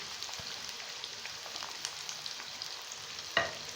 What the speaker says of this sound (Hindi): अब हम इसमें प्याज डालेंगे और इनको गोल्डन ब्राउन कर लेंगे।